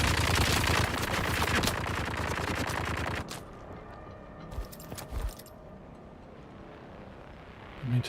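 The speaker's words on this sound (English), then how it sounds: "And then there's a machine gunner." Rapid machine gun fire in the video game Dune Awakening, a dense crackling burst for about three seconds, then quieter scattered shots and background game sounds.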